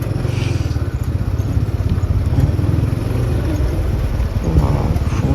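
A motorcycle rides along a sandy sea beach at Cox's Bazar, its engine a steady, close, rumbling putter with rapid pulsing and some rattling, continuous and loud throughout with no talking.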